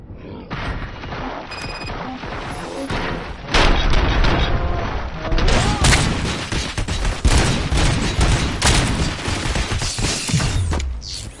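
Rapid bursts of gunfire and booming impacts from a Robocop video game, dense and loud, with mechanical clanks and shot volleys layered over one another for about eleven seconds.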